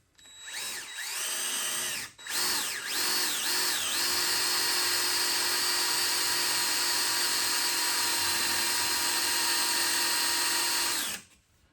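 Cordless power drill boring into a snapped brake disc bolt with a wood drill bit, a high whining motor that stutters in short bursts at first, then runs continuously and loud up close before stopping.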